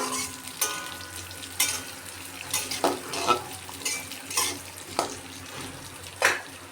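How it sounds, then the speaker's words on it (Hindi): Peanuts roasting with cumin in a pan at home, a soft sizzle under repeated scrapes and clanks of a spoon stirring against the metal, irregular and close. "मूंगफली के दाना, उसको मैं डाल देती हूँ। इसको थोड़ा सा भून लेना है।"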